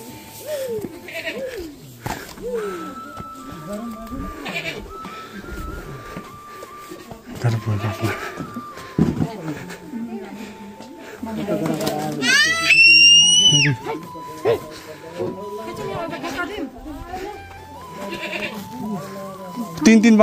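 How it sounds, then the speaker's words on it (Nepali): Small goats in a rural Nepali village in Gulmi, bleating repeatedly and close by, with people talking over and between the calls. "तिन तिन बाख्रा छ सानो सानो"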